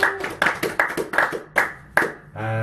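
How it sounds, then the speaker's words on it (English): A small group giving a round of applause, about seven or eight sharp, distinct hand claps in an uneven rhythm, followed by a short voiced sound at the end. "Round of applause."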